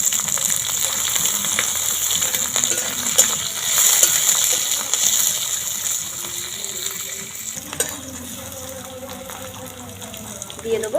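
Chopped onion tipped into hot oil in a wok, with cumin seed and dried chilli already fried in it, gives a steady close sizzle and hiss, with a clatter and a louder burst partway through as the onion goes in.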